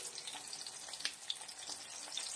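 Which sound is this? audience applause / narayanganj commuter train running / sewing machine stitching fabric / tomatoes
tomatoes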